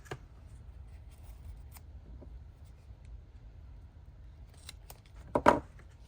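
Scissors trimming the edge of a layered paper tag, a few quiet snips early on followed by a louder cluster of sharp cuts near the end, close by in a quiet room.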